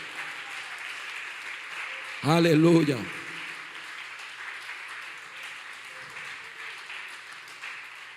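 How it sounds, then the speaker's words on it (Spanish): A church congregation claps loudly and steadily for the King of Kings during an evangelical service, while a voice cries out once over the sustained applause. "Denle un aplauso fuerte al Rey de Reyes y Señor de Señores."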